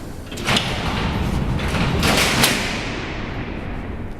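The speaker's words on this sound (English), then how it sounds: "the sound of these doors closing," Heavy steel cell doors at Alcatraz prison roll shut along their tracks, a broad rumbling slide punctuated by two or three sharp metallic clanks, echoing loudly through the cellblock before fading.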